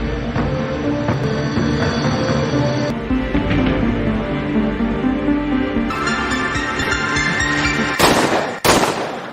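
Rapid bursts of film gunfire crackle over a dense soundtrack, ending with a couple of sharp, loud shots near the end.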